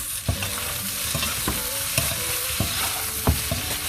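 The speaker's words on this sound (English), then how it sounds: "Now give this a quick mix." Spices stirred in a sizzling pan with amchur powder for a vegan farrey snack, a constant frying hiss broken by regular spatula scrapes and taps close by, with no voices.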